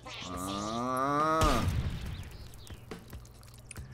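The concrete donkey super weapon from Worms Revolution: a loud, long, braying donkey-like cry that rises and ends in a heavy crash, then trailing rumble and scattered debris clatter.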